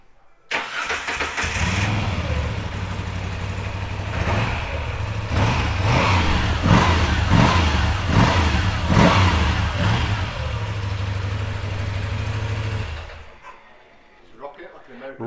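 A 2019 Moto Guzzi V7 Bobber Sport motorcycle engine cranks and catches, then settles into a loud, close idle punctuated by several sharp throttle blips, before shutting off, with a voice briefly audible afterward.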